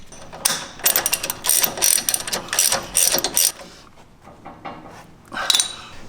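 Ratchet clicking in repeated bursts as an 18mm socket tightens a sway bar link on a Jeep JL Wrangler axle during a Rancho 2-inch lift kit install, loud and close, with brief pauses between runs.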